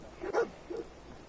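A companion dog in the video game Fallout 4 gives two short barks, a louder one followed by a softer one, fairly close and alone over faint game ambience.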